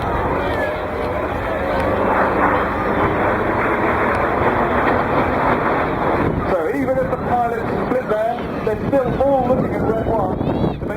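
RAF Red Arrows jets performing the vertical break at an air show over the Bristol Balloon Fiesta, a steady, broad jet roar heavily buffeted by wind on the microphone, with voices talking over it throughout.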